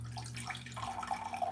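Kitchen tap running to measure water for pancake batter, a steady close splashing flow with a faint low hum underneath, no speech.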